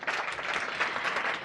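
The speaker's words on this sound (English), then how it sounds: "so give her a round of applause" Audience applause at a Lionesses of Africa business event, a steady wash of many hands clapping together for the full moment, even and moderately loud with no speech over it.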